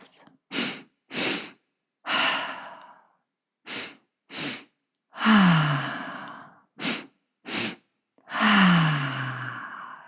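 Several deep breaths during a breathing exercise, each inhale and exhale loud and close, alone in silence with short pauses between them, two longer sighing exhales standing out.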